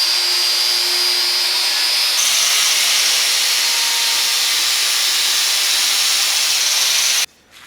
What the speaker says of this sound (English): I'm gonna use flap disc.